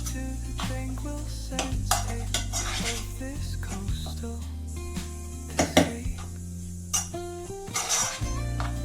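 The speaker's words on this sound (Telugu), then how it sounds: "దీనంతా ఒకసారి మంచిగా మిక్స్ చేసుకున్నాము" Gongura chutney being mixed in a bowl for an Andhra-style pickle, with a spoon scraping and clinking steadily against the bowl and sharper knocks now and then, over a faint humming background with no talk.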